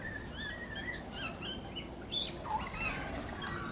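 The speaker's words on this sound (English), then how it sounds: "But this is the sound of a young pied butcherbird." A young pied butcherbird warbles in soft, rising and falling chirps and whistles, fairly faint against a steady outdoor background hiss.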